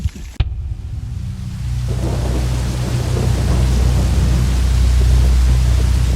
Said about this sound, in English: Every time I think it's gonna stop raining, it just keeps getting worse.